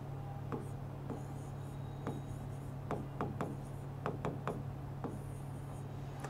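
Chalk or marker strokes on a board during a physics lecture on vectors come as a series of sharp, separate taps and scrapes, some quickly bunched together, close and clear over a low steady hum.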